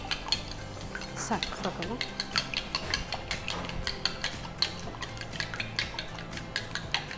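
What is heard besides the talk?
mixing pepper powder and spices for egg butter garlic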